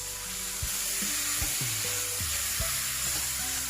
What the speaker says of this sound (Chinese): 再倒入魔芋豆腐。